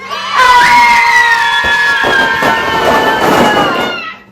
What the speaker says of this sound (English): 1, 2, 3, yell